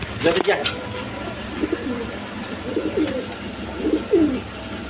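Pigeons, including the Rajgolla breed, coo in a breeder's loft: soft, low, repeated coos spaced through the clip over a constant background hiss, with a faint voice in places.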